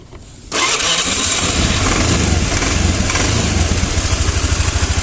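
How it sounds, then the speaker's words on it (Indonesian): A Honda Vario motorcycle engine cranks and catches, then settles into a steady, loud, close idle with a rapid even pulse; the engine has a history of spark plug fouling. "Nah, oke, motornya udah nyala."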